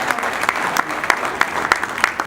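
Audience applause at a UNFPA ten-year anniversary event, lively clapping with a few strong, regular claps standing out near the microphone above a broad crowd wash.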